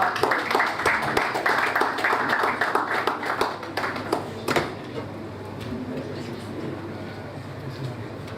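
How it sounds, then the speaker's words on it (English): An audience at an investment conference claps to welcome a panel moderator, a brisk round of applause for about four seconds that fades into room murmur, with sounds of someone moving around afterward. "Please make her feel welcome with a round of applause."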